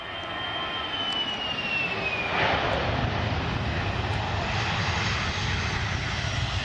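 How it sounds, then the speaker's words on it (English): Airplane on its takeoff roll, a loud continuous jet engine roar with a high whine that slowly falls in pitch, steady and close throughout. "This plane was taking off, but then the pilots heard a loud bang and had to abort the takeoff."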